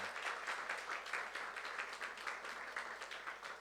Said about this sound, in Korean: 목사님께 감사의 박수 다시 한번 드리십시다.